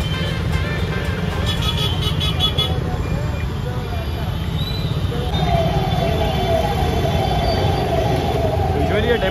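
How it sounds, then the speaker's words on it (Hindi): Dense road traffic on a busy, congested street with heavy police checking, a steady near rumble of engines with horn-like tones running throughout, while someone talks over it. "ट्रैफिक है तो मेरे भाई यार ट्रैफिक में से कटा ही जरा आवाज़ को मैनेज कर लो आप लोग"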